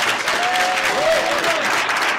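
Full audience applause for Steve Blank at a startup event, thick continuous clapping through the whole short stretch, with a faint whistle or cheer rising above it.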